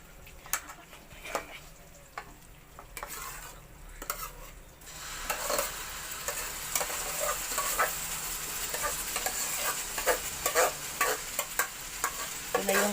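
Mashed squash for squash jam is stirred in a hot pan, with sharp utensil scrapes and taps over a low hiss that rises into a steady, fuller sizzle partway through, close and without talking.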